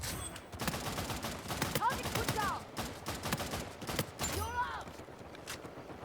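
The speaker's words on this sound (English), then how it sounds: "A lot of bullets wasted on that man." Rapid bursts of gunfire in the Uncharted 4 multiplayer game, repeated volleys across the whole stretch with a few louder metallic hits, loud and close, with game effects mixed in.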